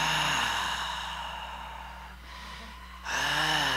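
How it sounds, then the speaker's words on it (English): Loud, raspy whispered breathing made as a vocal exercise, a breathy airy exhale that fades in the middle and returns strongly near the end, heard alone and close up. "Whisper really loud, like you want someone several feet away from you to hear, like this. Like you're raspy breathing, whispering."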